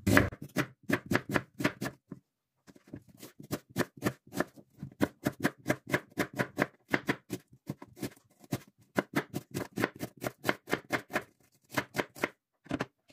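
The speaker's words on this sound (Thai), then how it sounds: "มีเคล็ดลับมาบอกนะคะว่าหั่นหัวหอมยังไงนะคะไม่ให้น้ําตาไหล" Knife chopping onion on a cutting board, preparing a Cypriot rabbit stew: rapid, steady close-up strokes in quick bursts with brief pauses, no talking.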